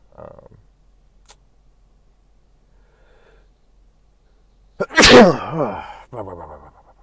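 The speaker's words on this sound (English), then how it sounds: "sneezing right into the mic" A single loud sneeze right into the microphone bursts out after a long near-silent stretch, followed by a brief snort or sniff.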